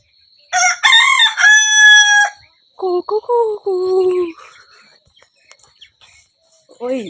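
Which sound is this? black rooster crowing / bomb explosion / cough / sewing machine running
black rooster crowing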